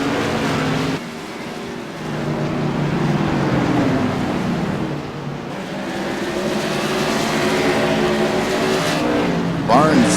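CRA modified race cars racing at Five Flags Speedway, a continuous loud engine roar from the pack circling the oval, with a commentator talking over it throughout.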